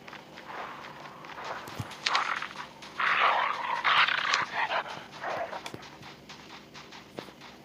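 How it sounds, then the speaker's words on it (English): A friendly canine unit dog in the Call of Duty Mobile video game, heard as quick footsteps, panting and soft whimpers, moderately loud, with scattered game effects and no talk. "Friendly canine unit incoming."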